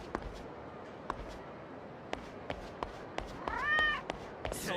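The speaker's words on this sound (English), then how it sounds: "Kitties." Cats meowing in the video game Yakuza 0: one clear rising-and-falling meow near the end, over faint ambient game noise and scattered light footstep-like clicks.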